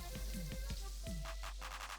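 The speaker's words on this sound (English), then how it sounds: "Sizzling. Sizzle." A tortilla sizzles with a little oil on a hot comal over high heat, giving a steady close frying hiss broken by soft scraping and tapping.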